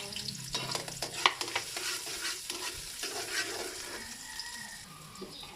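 Garlic fries in a pan, a close, crackling sizzle with stirring scrapes for a few seconds before it settles into a quieter hiss.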